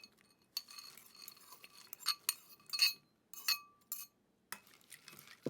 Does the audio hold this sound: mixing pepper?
yes